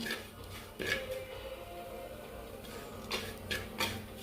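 A spoon scrapes and clinks against a pot while stirring a mackerel fish curry made with kudampuli, a few distinct knocks and scrapes at moderate loudness with no talking.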